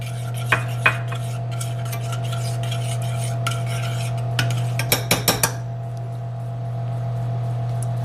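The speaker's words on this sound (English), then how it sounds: "Stir that in." A spoon stirs dill into a sauce in a pan, giving soft scraping strokes and a few sharp clicks against the metal over a steady low hum, with no talking.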